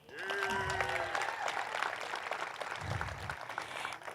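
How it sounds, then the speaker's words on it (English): Audience applause at a groundbreaking ceremony, steady and moderately distant clapping throughout, with a brief tonal whistle near the start. "Let's clap."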